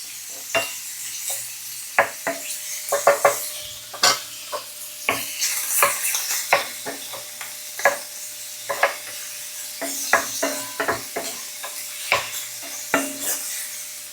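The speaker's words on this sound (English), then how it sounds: "We are not going to cook this shrimp thoroughly. We just want the shrimp look golden on both sides." Shrimp fry in a pan for shrimp fried rice, a soft sizzle running beneath frequent sharp scrapes and clinks of a utensil stirring and flipping them, loud and close with an irregular rhythm.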